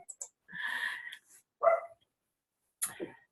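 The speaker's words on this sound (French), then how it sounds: "J'ai un chien qui jappe." A pet dog barks indoors in short bursts, a few sharp yaps spaced apart and moderately close, with no talk over them.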